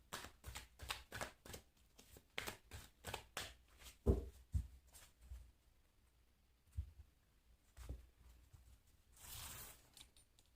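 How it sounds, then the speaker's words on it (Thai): A deck of Thai fortune-telling cards being shuffled and handled close up: a run of quick, soft rhythmic flicks and riffles, then scattered slides and taps, ending in a brief brushing rustle, all faint and without talk. "อาจารย์ขออนุญาตเอาไพ่กองที่ยังไม่ได้พยากรณ์ออกมาก่อนนะคะ"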